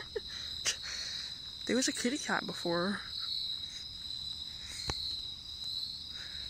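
Steady, high-pitched cricket chirping fills a quiet night, with a brief spoken remark from a nearby voice partway through.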